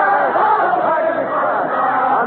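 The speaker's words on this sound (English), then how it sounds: "The crowd is still singing. I hope you can hear them." Crowd of many voices singing together at the storming of the Bastille in Paris, 1789, as a dense, continuous wash of massed voices held steady and fairly loud throughout, staged as a radio drama.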